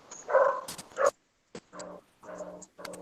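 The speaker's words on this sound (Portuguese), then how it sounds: "tem uns cachorros aqui passando e tá fazendo uma zoada" Several dogs pass nearby, giving a few sharp barks followed by short yips and whimpers in uneven bursts with brief silences between them. No one speaks.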